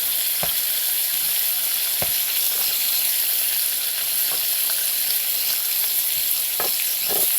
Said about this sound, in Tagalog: Hindi ko na nilagyan ng mantika guys kasi ang bacon may mantika yan. So, maluluto lang yung mga talong nito.